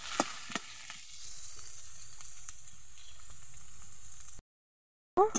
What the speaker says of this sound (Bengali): গোটা রসুনটা আর পেঁয়াজটা আমি এখন ভেজে নেব।